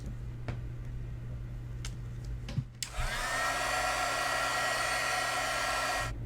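A heat tool for embossing powder on vellum switches on after a few faint clicks and handling sounds, then blows with a steady, loud, close whooshing roar for about three seconds before shutting off.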